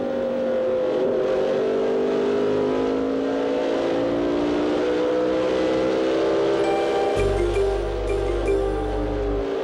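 1996 NASCAR Winston Cup stock cars circle Richmond International Raceway during the Pontiac Excitement 400, their engines droning as the pitch slowly falls and rises. A heavy low rumble swells in near the end, with no talk.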